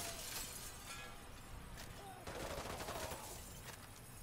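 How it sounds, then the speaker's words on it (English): Faint, dense gunfire crackles through the airport massacre in Call of Duty: Modern Warfare 2 Campaign Remastered, a continuous volley of rapid shots with sharp shattering bursts mixed in. "he literally will shoot up an entire airport of innocent people"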